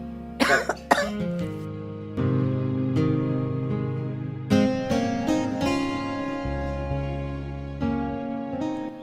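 An elderly mother coughs several times in quick bursts near the start, followed by a long sustained tone and background sounds.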